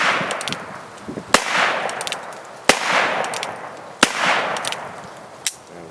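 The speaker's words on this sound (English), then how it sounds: "So in this big gunfight, it's going to involve 10 shots." Revolver shots in a staged Old West gunfight: four sharp, loud cracks spaced roughly a second apart over a steady noisy background.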